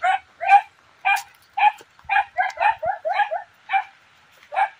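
Several dogs bark around houses in a rural neighborhood in the Philippines, giving a steady string of loud, close yaps and barks across the whole stretch.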